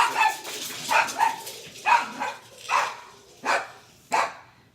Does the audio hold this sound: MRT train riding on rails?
no